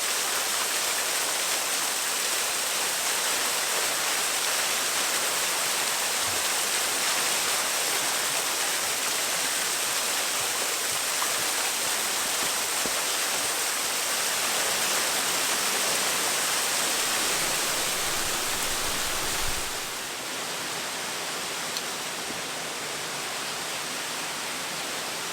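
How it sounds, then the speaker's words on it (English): A waterfall rushes in a steady, dense roar with no breaks, loud and constant throughout, at a site showing storm damage; the roar dips slightly near the end. "We're at the waterfall"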